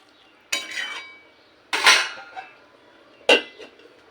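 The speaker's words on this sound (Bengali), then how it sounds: "এবার সমস্ত কিছু আবারও ভালো করে নেড়ে দিয়ে ঢাকা দিয়ে দশ মিনিট হতে দেবো" Vegetables being stirred in a cooking pot for a Bengali pui michuri dish: three separate bursts of utensil scraping and clatter against the pot, close and fairly loud, with quiet gaps between.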